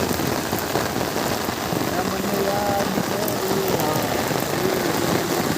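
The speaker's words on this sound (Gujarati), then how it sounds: "ફૂલ વરસાદ આવવા માંડ્યો છે." Heavy rain pouring down near Bhavnath while a car stands stopped, a dense, loud, steady hiss of drops on surfaces, with faint voices here and there beneath it.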